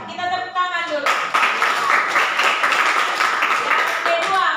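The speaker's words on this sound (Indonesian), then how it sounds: "Kita tepuk tangan dulu." Classroom of students clapping hands together in a lively burst after a teacher's brief spoken cue, fast rhythmic claps filling the room for several seconds.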